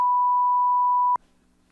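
A stream button gives a single long, steady electronic beep at one pitch, loud and clean, cut off abruptly after about a second and followed by a low hum.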